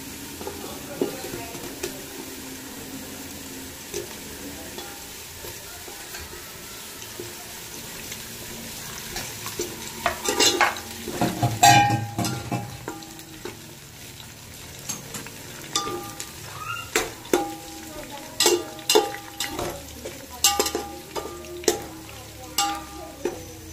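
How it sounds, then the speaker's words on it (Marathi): Potato being stirred into a soya biryani mixture in a pan. Soft sizzling runs underneath and grows busier after the first ten seconds, with repeated spoon scrapes and clinks against the pan. "याच्यामध्ये मी आता बटाटा मिक्स करत आहे"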